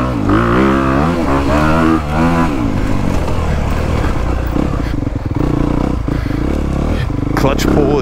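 A 2022 Honda CRF250R dirt bike ridden on a woods loop, its engine loud and continuous, with revs rising and falling in quick surges and some clattering from the trail.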